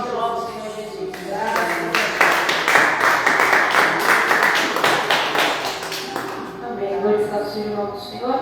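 A church congregation claps together through a worship service, a dense, steady run of many hands striking at once, loud and close, with voices and singing mixed in beneath the clapping.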